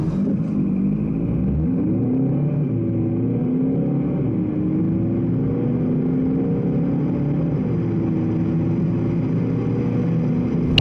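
An Audi A1 30 TDI diesel hatchback with a dual-clutch gearbox accelerates, its engine a steady, loud drone that climbs in pitch and drops at gear changes, heard from inside the car with no talking.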